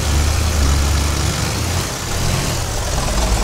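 A Sonalika 60 DI tractor in Farming Simulator 22, hauling a big sugarcane trolley: a loud, steady low diesel drone running continuously, with a slight dip in the middle.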